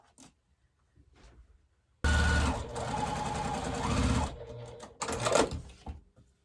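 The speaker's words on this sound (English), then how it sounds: "So now I'm going to sew these two together like this" A sewing machine pieces two quilt blocks together, running in one loud continuous burst of about two seconds, then a shorter second burst after a brief pause, with faint handling noise before it starts.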